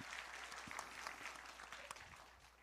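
Faint, distant applause from the audience at a Gangwon education superintendent debate as a high school student panelist is welcomed, a soft continuous patter of clapping lasting a couple of seconds.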